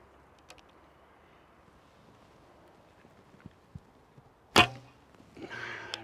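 A single sharp snap of an Alibow Kheshig bowstring releasing an arrow, loud and close, followed by a brief rattle against quiet outdoor background.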